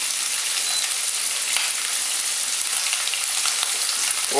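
Shrimp sear in a little oil in a hot pan for Provençal-style shrimp pasta, a loud, steady, close sizzle that fills the whole stretch with no voices.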